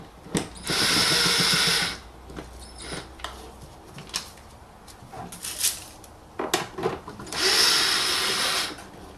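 A power tool drives out the small bolts holding the pollen filter on a 2008 BMW E91, giving two loud whirring bursts at the start and end, with scattered clinks and handling noises between them.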